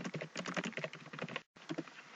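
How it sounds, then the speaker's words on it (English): Rapid clicking keystrokes on a computer keyboard while editing a document, a steady run of close, crisp taps with a brief pause near the end before typing resumes. "I can type things."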